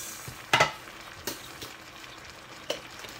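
Food being stirred with a wooden spatula in a hot pan after sugar is added, with a few sharp scraping clatters standing out over a faint, steady sizzle of frying.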